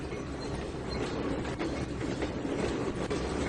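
A train in the video game Trainz 2019 rolls along steadily with rhythmic clicking and rumbling wheels, moderately loud and continuous, no talking.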